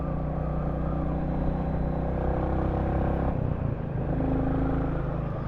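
Royal Enfield Classic 350 motorcycle being ridden on a narrow country road, giving a steady low engine rumble and road noise with a brief dip and gear change partway through, with no talking.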